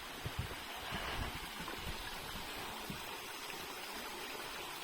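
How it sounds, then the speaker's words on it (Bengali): A natural waterfall in Italy with a wooden footbridge nearby: a steady, broad rushing of falling water, close and continuous, with no talking. "প্রাকৃতিক ঝর্ণা"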